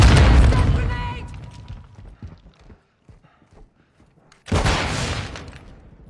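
Grenade blast and gunfire in Call of Duty Modern Warfare II: a loud, broad explosion opens, then fades into scattered faint clatter before a second heavy burst of fire erupts near the end.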